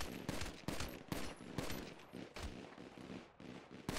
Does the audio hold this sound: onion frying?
no